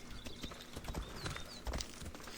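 A horse's hooves clip-clop at a steady walking pace in Assassin's Creed Odyssey. The hoofbeats are close and fairly loud, running evenly over the game's background ambience, with a few faint high chirps and no speech.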